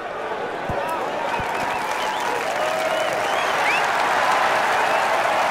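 A golf gallery applauds and cheers a gutsy shot in steady, dense clapping that swells slightly and holds loud throughout, with a few sharp individual claps standing out near the start.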